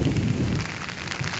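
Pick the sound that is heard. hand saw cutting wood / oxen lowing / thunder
thunder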